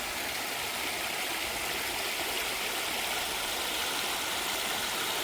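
Continuous rushing water of a flowing stream flows steadily throughout, a dense broadband wash with no voices.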